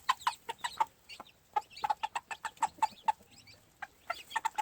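A gamefowl mother hen on a farm calls her chicks with quick repeated clucks in uneven bursts, close and clear, mixed with faint peeping and scratching between calls.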